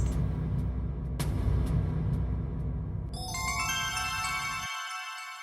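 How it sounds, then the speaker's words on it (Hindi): A phone ringtone starts partway through, a bright repeating electronic melody that plays over a low household rumble, which drops away while the ringing continues. "तब से लोगों के फोन पे फोन आ रहे"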